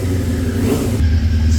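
A small minibike engine runs steadily with a low, throaty rumble, loud and close, holding a fairly even idle throughout.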